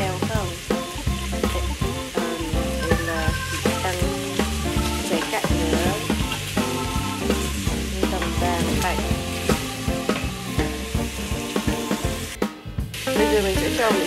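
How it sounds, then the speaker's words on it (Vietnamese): Steady sizzling and stirring as food stir-fries in an Instant Pot set to porridge mode, a close, busy crackle with scraping strokes lasting throughout, no one speaking. "Các bạn có nghe thấy tiếng xèo xèo xèo không?"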